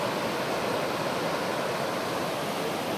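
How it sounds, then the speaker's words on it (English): Steady, full rushing water fills the whole stretch without a break, a broad even roar of a fast mountain river close by on the John Muir Trail. "the river's beautiful"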